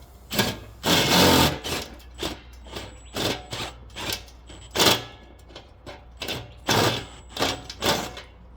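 An air nibbler biting through a steel trash can, a loud, rapid mechanical chattering in repeated bursts with brief pauses between cuts.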